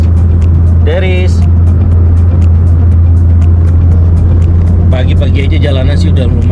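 Steady low engine and road drone inside a Honda Brio driving through busy morning traffic in Jakarta, continuous throughout, with people talking over it at moments.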